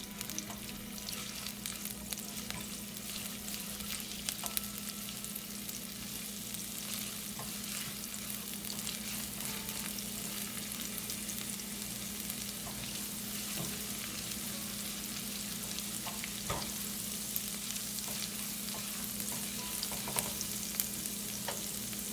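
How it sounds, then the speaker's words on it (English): Ginger, garlic and chili sizzle in a hot pan with a constant crackling hiss, occasional light stirring scrapes and pops rising over the steady frying, close and without voices. "I'm going to add ginger, garlic and chili. Just saute for 30 seconds."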